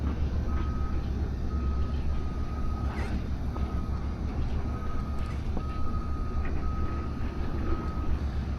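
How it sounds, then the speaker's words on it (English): Truck backing out onto a ramp above a river at a loading site, its reversing alarm beeping in a steady repeated rhythm at a distance over constant engine and machinery rumble. "So they're backing the truck out on basically a ramp overhanging the river"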